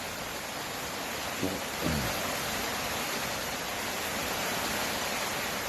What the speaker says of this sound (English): So it has started hammering the rain again.